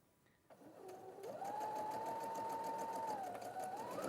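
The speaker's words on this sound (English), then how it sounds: "understitching is where you have your seam towards your pocket and you're going to sew nice and close to it" A sewing machine runs steadily while understitching a seam close to a pocket edge. Its even, close motor whir speeds up after a brief start and holds for several seconds, with no one talking.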